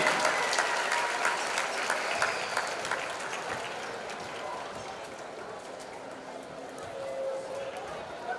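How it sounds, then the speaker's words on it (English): Audience applause at a girls' varsity basketball tournament awards ceremony in Marshall County, a dense steady clapping in a gym that tapers slightly, with faint voices mixed underneath. "Another round of applause for the 2026 Marshall County Varsity Girls All-Tournament team."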